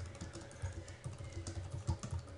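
Quiet, rapid typing on a computer keyboard while programming in Small Basic, a steady patter of soft key clicks close by with no speech.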